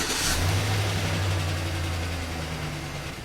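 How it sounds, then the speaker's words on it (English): A Chevrolet Silverado with a cylinder misfire and a small EVAP leak starts with a quick crank burst and settles into a loud, steady, low engine idle close by. "So I'm going to start the engine now."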